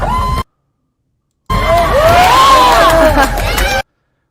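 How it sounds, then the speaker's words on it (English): A protest crowd in Portland, Oregon cheers and whoops in loud shouting bursts, with a short silent gap between them. "These are American citizens cheering for the random murder of one of their fellow countrymen"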